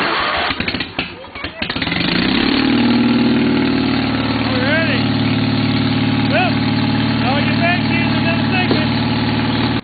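A Case 222 garden tractor engine cranks roughly, catches and settles into a loud, steady idle close to the microphone, with faint background sounds over the drone.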